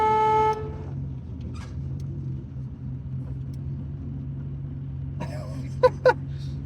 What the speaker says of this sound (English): If you turn too much, the horn goes.